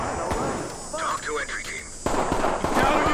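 Shotgun fire in the tactical shooter Ready or Not, sharp loud blasts breaking through over a player talking excitedly, with echoing impacts and game noise.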